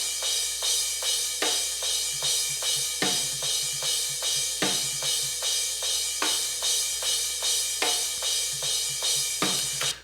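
Drum overheads run through a high-pass EQ, leaving a thin, bright wash of cymbals and snare with the kick stripped out, hitting in a steady repeating groove about every three quarters of a second, loud and alone.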